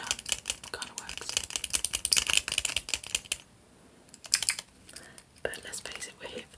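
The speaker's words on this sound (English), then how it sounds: "Taps and clicks at the same time." Close, crisp clicking and tapping on a small plastic fidget toy, rapid irregular bursts that drop into a brief lull before a few more scattered clicks, with faint whispering at moments.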